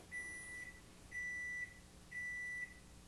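A microwave oven beeps three times in a steady rhythm, each long even tone about half a second, close and clear over a quiet kitchen hum as radishes go in to cook.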